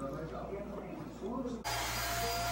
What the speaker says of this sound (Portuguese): Esse barulho é que ela tá passando aspirador de pó